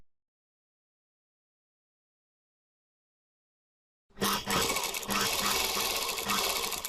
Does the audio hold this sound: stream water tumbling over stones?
no